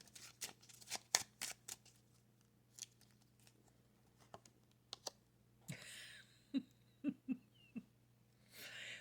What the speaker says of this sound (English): This is why I shuffle here.